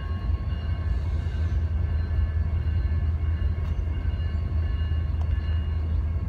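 A CSX autorack freight train rolls past close by in a loud, continuous low rumble of rail cars that holds steady throughout, with no voices.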